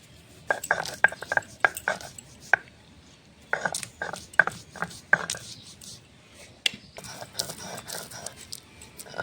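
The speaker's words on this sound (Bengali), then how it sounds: "শিল নোড়াতে আমি কটা কাজু বেটে নেব" Cashews are ground on a stone shil-nora slab in irregular bursts of grating, knocking strokes with brief pauses between them, close and fairly quiet.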